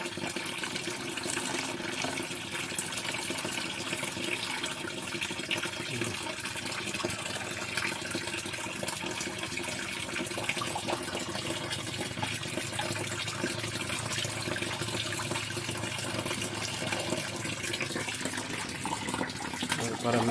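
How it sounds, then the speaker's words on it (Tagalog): Water poured slowly into a pan holding crayfish being moved to a new pond, a steady close trickle and splash lasting throughout, with faint background noise. "Dahan-dahan naman nating lagyan ng tubig sa pan."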